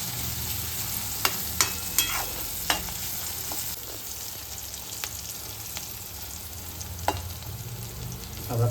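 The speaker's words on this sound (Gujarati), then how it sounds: "કાંદા થોડીક વાર ચડવા દઈશું." Onions frying in a pan for vegetable Hakka noodles, a steady soft sizzle throughout with several sharp clicks of a spoon or spatula stirring against the pan, no voices.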